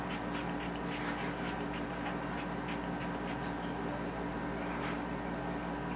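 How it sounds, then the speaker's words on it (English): Mineral-based setting spray is misted onto a face in a quick run of short, soft hissing pumps, then stops, over a constant faint background hiss. "Tapos, sprayan ko lang aking face."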